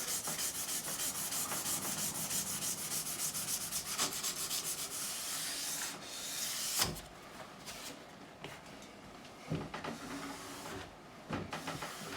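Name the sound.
sanding a guitar neck with 240 grit sandpaper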